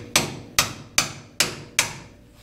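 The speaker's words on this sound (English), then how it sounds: "find a soft-headed hammer" Five evenly spaced taps from a soft-headed hammer driving a part into an old Warco milling machine, each a sharp close knock that rings briefly and fades before the next.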